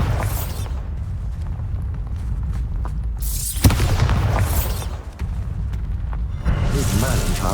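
The Bombarda spell detonates in the Hogwarts Legacy video game, with several booming blasts and bursts standing out loudly over a continuous rumble of combat effects.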